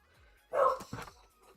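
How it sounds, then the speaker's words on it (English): A single short dog bark followed by a softer yip, faint and somewhat distant in a quiet room. "that's Addison barking"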